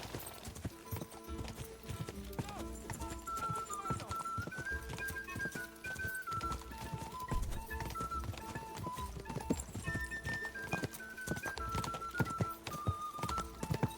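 Horse hooves clip-clop at a brisk trot in Kingdom Come: Deliverance 2, steady and prominent under game music and ambient tones, with no talk over them.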